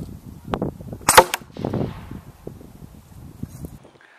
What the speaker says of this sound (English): I actually did two shots here, both 54 caliber, both lead balls